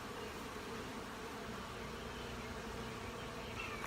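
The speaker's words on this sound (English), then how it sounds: "You can see how many bees are in this hive and how many are buzzing around." Dense, steady buzzing of many honey bees around a hive fills the air continuously, a close swarm humming without pause.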